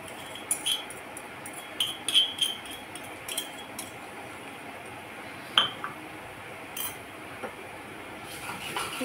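A spoon stirs garlic-ginger paste with fried onion inside a metal pressure cooker while making dum aloo, giving sparse, light metallic clinks and scrapes at an uneven pace against a quiet kitchen background.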